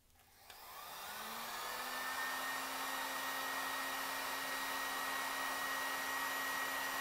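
A cheap $8 heat gun switches on with a click and spins up into a steady, loud whooshing blower roar with a constant motor whine, close by and running alone.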